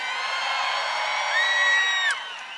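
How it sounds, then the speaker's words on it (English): Large crowd at a political rally with Barack Obama, cheering and whooping in a dense sustained roar with a loud shout rising above it before the noise begins to ease. "Give her a big round of applause."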